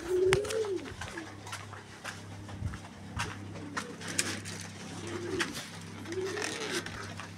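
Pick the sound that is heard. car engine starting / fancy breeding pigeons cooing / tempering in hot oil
fancy breeding pigeons cooing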